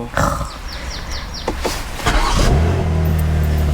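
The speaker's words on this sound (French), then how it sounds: "Ça fait bien un bruit de BM." A BMW M2 engine cranks and catches, revving hard a couple of times with a throaty roar before settling into a loud, steady idle close by.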